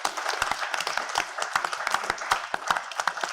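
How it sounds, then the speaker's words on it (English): Audience applause at a mental health conference panel, a steady round of scattered hand claps with sharp individual claps standing out, moderately loud and sustained throughout. "So if we could have a round of applause"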